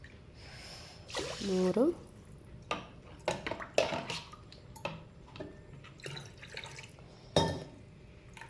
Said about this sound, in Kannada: ಇದೇ ಗ್ಲಾಸಲ್ಲಿ ಇವಾಗ 4 ಗ್ಲಾಸಿನಷ್ಟು ನೀರನ್ನು ಕೂಡ ಹಾಕುವ